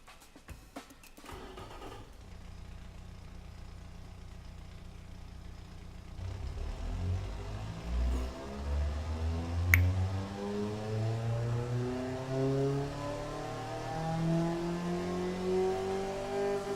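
A cheap car built in the Automation game, with low-quality fuel and a cheap exhaust, cranks briefly and then starts, its engine revving up through rising harmonic sweeps, loud and steady with no talking.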